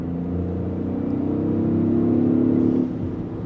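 A 2026 Toyota GR Corolla engine rises steadily in pitch as the car accelerates in sport drive mode, a close, droning cabin hum swelling for a few seconds and then easing off as the throttle backs away.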